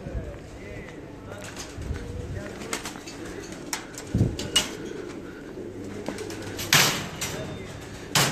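Champion high-flying pigeons from the UAE coo softly with scattered wing flaps and sharper fluttering bursts, fairly close, with faint voices in the background.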